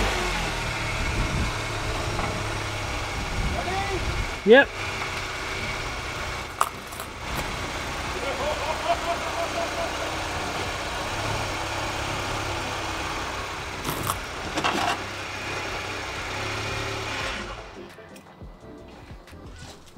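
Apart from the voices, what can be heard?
car engine idling while backing up over microphone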